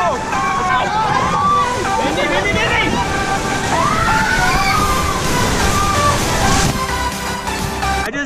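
Water sloshes and splashes on a theme park water ride near a waterfall, a loud continuous rush mixed with excited shrieks and chatter from riders, including children.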